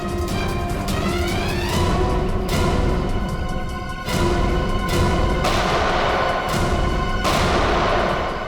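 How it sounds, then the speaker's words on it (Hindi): Heavy gunfire during a police raid in a TV crime drama: sustained loud shooting with several sharp bursts every second or so, over a constant ringing, droning backdrop. "वहां से चल रही है गोलियां।"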